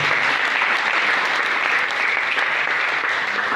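Congregation at a healing prayer service applauding in worship, a dense, steady wash of many hands clapping at full strength throughout with no pauses, close and loud.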